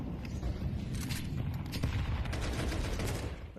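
Rapid gunfire bursts in the shooter game Counter-Strike, dense and continuous with several overlapping shots, loud and close over the game background.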